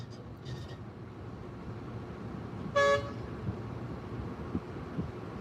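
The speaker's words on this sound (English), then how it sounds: "This work site is very busy, a lot of trucks moving to and from." Busy bridge construction site with trucks moving to and from, a low steady engine and traffic rumble with one short, sharp horn toot midway and a faint distant horn near the start.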